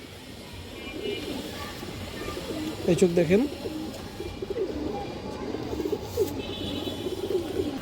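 Pigeons, including a khoiragola bird among high flyers, coo in low throaty phrases nearby against a busy background hum, with someone talking over them throughout.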